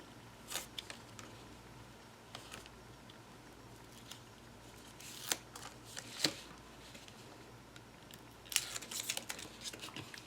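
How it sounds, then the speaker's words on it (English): Adhesive paper tabs on an embellishment book box being peeled out with a poking tool: sparse, soft crinkles and scratchy ticks at irregular moments, faint and close, with no talking. "So I'm just going to peel them all out at the same time"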